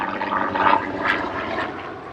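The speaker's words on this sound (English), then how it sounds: "Got a helicopter here." A sheriff's helicopter passes overhead as a loud, steady engine roar with a broad rushing wash that swells briefly and then eases, with no talk.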